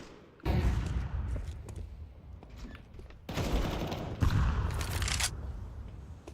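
A flashbang grenade and other utility thrown in a Counter-Strike 2 match, heard as a sudden loud burst after a quiet start, then a second wave of bangs and clattering thuds near the end, with no talk.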